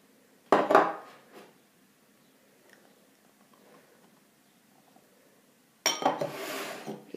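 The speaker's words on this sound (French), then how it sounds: "dans un saladier, mettre la farine" Flour being poured and scraped into a mixing bowl while making Australian damper: two loud bursts of rustling, clattering pouring against the bowl with faint scraping between them, close and alone without talk.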